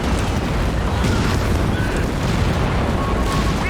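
Rocket barrage from a walking Stuka in Company of Heroes 3 sends up a dense, continuous rumble of overlapping explosions, loud and booming with no clear gaps between the blasts.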